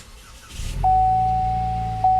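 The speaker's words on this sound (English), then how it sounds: "what you're hearing there is a 2-liter turbo 4-cylinder" A 2016 Buick Regal GS 2-liter turbocharged four-cylinder engine cranks and catches with a low rumble that settles into a steady idle, with a sustained electronic beep tone ringing over it.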